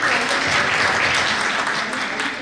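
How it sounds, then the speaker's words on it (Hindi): Sustained applause from a seated audience at a Republic Day senior citizens' council gathering and cultural programme in Delhi, a dense, steady wash of clapping that holds throughout. "जोरदार तालियां"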